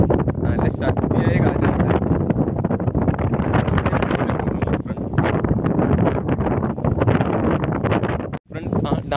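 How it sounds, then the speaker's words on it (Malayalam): Strong wind buffets loudly and continuously around a dam shutter, a dense roaring rush that blasts across the microphone, with a voice partly heard beneath it. "ഡാമിന്റെ ഷട്ടറിന്റെ ഭാഗത്ത് നിൽക്കുമ്പോൾ ഭയങ്കര ശക്തമായ കാറ്റടിക്കുന്നുണ്ട്."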